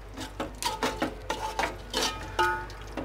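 A spoon scraping and stirring a prawn biryani mixture in a metal pot, with repeated close clinks and scrapes in an uneven rhythm, no voices.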